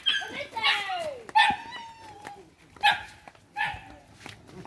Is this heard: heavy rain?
no